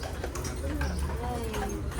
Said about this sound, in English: Look, the horses are moving.